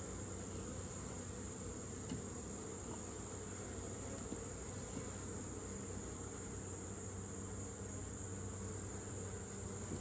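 Dense, continuous honeybee buzzing from inside a hive holds steady throughout, with a high whine on top, like many bees humming together close by.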